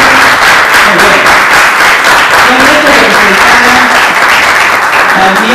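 A theater audience breaks into loud, sustained applause, steady and full throughout, with a voice faintly audible beneath the clapping.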